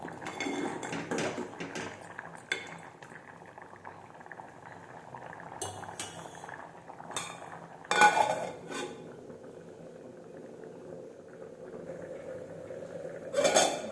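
Moong dal simmering in a cooking pot on the stove, stirred with a metal spoon after coriander powder is added; soft bubbling runs throughout, broken by a few sharp clinks of spoon against the pot rim.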